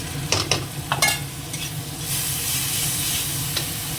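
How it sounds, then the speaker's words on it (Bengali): Salted onions frying with ginger paste and a little garlic paste, with sharp spoon clinks and scrapes in the pan early on, then a steady hissing sizzle that swells and holds. "একটু নুন দিয়ে দিই পেঁয়াজটা নরম হয়ে যাবে তাড়াতাড়ি এক চামচ আদা বাটা"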